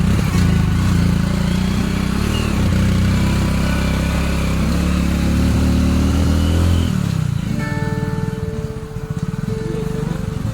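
A motorcycle rides steadily along a green village track in Konkan's Dapoli area, its engine droning loudly and continuously before the tone shifts and it slows near the end.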